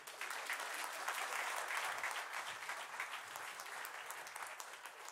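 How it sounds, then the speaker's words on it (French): An audience at a church service applauds Yanis with continuous, full clapping that holds steady for about five seconds and stays fairly loud throughout. "Est-ce qu'on peut applaudir Yanis"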